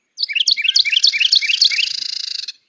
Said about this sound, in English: That rattling sound is the female wren.